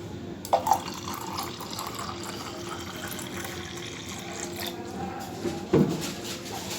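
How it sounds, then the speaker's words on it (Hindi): Chilled water pouring into almond sharbat, a steady liquid splash and trickle running throughout, with a couple of brief clinks near the start and toward the end, close and moderately loud with no talking. "फिर इसमें चिल्ड वाटर, सही अच्छा ठंडा पानी आपने इसमें ऐड करना है"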